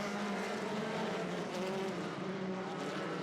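Off-road super buggy race cars roar around the dirt track at the Crandon World Championship, a continuous loud engine drone that holds steady and unbroken throughout, with no talk.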